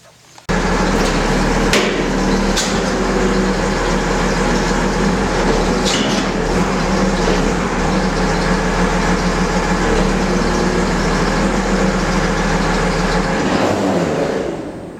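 A Dewalt 18-volt cordless 1/2-inch impact wrench runs continuously for about thirteen seconds, tightening a large bolt. The steady, loud mechanical rattle and hammering drone up close ends abruptly.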